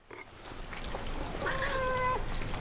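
A cat gives a single drawn-out meow near the middle, moderately close over a steady background hiss.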